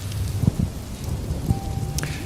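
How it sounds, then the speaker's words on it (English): Rain pelting down as a comedy sketch sound effect, a steady hiss of drops with low thunder-like rumbles, moderately faint and alone without talk. "It was a gloomy Monday night here in Los Angeles, and the rain started pelting"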